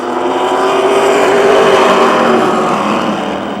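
A Ford Taurus late model race car numbered 1 roars at Motordrome Speedway, its engine a steady loud drone with a slight rise and fall as it passes close by, alone without talk.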